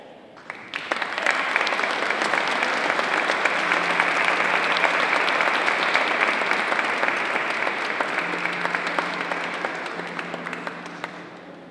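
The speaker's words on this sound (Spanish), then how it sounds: "vamos a darles un aplauso" A concert audience at a Christmas folk music event gives a long round of clapping. The dense applause swells quickly, holds steady for about ten seconds and then fades.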